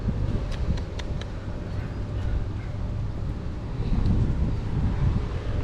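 Steady wind blusters against the microphone in a low rumbling roar, rising slightly toward the end, with a few faint ticks in the background.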